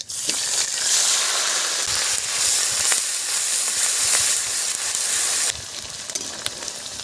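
Onions tipped into hot oil already holding cumin, cinnamon, cardamom and cloves for a village-style Bengali magur fish curry set up a loud, steady hiss and crackle. The sizzle goes on without a break and gets a little quieter toward the end.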